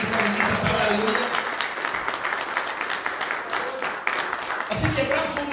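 A church congregation bursts into steady, dense applause that fills the space, with voices and cheers mixed in, swelling again near the end after a brief dip.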